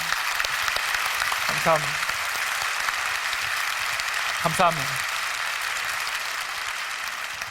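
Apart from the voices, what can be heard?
audience applause for the organisation's staff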